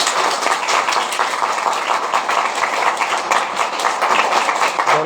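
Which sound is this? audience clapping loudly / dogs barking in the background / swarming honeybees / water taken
audience clapping loudly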